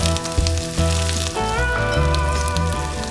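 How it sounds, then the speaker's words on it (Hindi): Diced boiled potatoes, green chillies, ginger and curry leaves fry on a high flame for sabudana khichdi, giving a loud, steady, close sizzle with brief stirring clatter and no talk. "अब 2-3 मिनट के लिए हाई फ्लेम पर ये तड़के और आलू को तब तक पकाना है जब तक आलू पर हल्का सा रंग ना चढ़ जाए"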